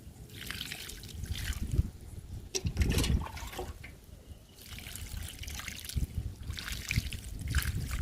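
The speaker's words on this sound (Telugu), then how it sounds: "మామిడి మొక్కకి వాటర్ ఇస్తున్నాను." Water trickles and splashes as it is poured onto a potted Banganapalli mango sapling planted in a bucket of soil, a close, uneven gurgling pour that swells and eases over several seconds.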